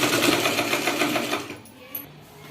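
A sewing machine runs fast and close while stitching a folded saree neck edge for a silk petticoat, a dense steady whirr that stops after about a second and a half, leaving quiet handling noise.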